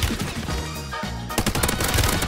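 Rapid gunfire from a Call of Duty Warzone match, a loud close burst of shots with a short break in the middle before more dense firing resumes.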